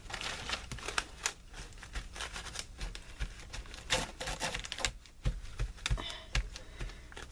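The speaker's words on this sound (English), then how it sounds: "And then take a paper towel and rub it down." A paper towel rubbed over inked paper in an art journal: dry rustling and scratchy rubbing, irregular strokes with soft crinkles, close and fairly quiet, no voices.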